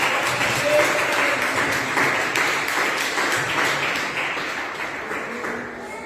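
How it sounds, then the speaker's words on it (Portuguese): A church congregation claps loudly for the Lord during an evening worship service, a broad, continuous patter of many hands with a few voices mixed in beneath it, fading slightly toward the end. "Aplauda fortemente o Senhor nessa noite."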